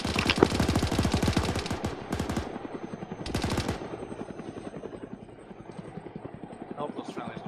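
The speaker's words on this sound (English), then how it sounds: "Helicopter's running good." A helicopter engine runs loudly throughout, with a rapid chopping rotor pulse and a steady mechanical drone.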